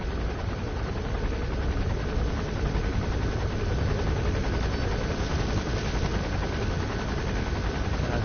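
A helicopter in Metal Gear Solid V: The Phantom Pain makes a steady, dense rotor and engine roar that holds at an even level throughout, with no talk over it.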